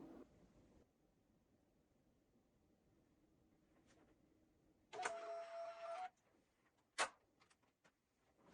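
A Munbyn Bluetooth label printer gives a short, sharp mechanical whir lasting about a second, followed by a quick click and small ticks in an otherwise quiet room.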